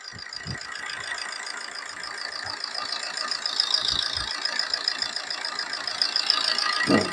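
A car engine idles steadily with a continuous low hum and faint rattling, a few soft knocks and clicks scattered through.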